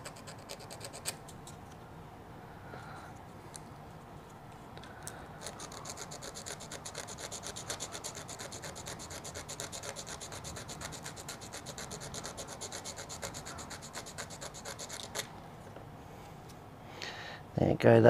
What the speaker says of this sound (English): little bit of sanding there